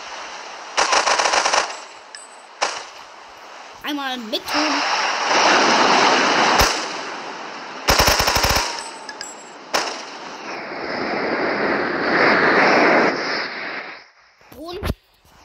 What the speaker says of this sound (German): Dann einmal AK-47, ganz berühmtes Maschinengewehr.